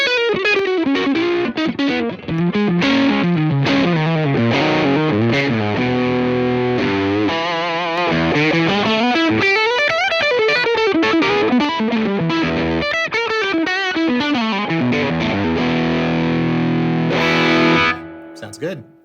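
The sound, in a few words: tube distortion pedal on electric guitar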